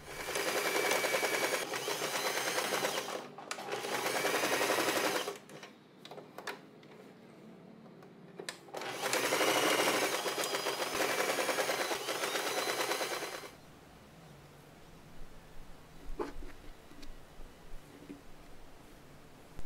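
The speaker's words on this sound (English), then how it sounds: "Sew along the line, leaving a gap in the center." Sewing machine stitching fabric along a marked line for a sailor bow, running in loud rapid bursts separated by pauses, then stopping into quiet room sound, no talking.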